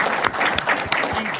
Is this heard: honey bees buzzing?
no